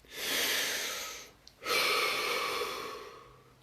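A person takes two deep breaths up close: a long airy inhale, a brief pause, then another long breath that slowly fades.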